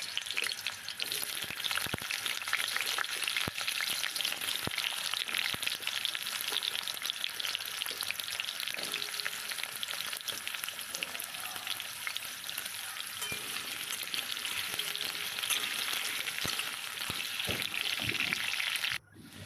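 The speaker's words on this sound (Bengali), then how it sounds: "এবার আমি আলুটা ভেজে নেব।" Potatoes fry in oil in a pan after onions have been fried, giving a continuous, even sizzle with faint crackles and occasional spatula taps that hold steady for nearly twenty seconds before cutting off.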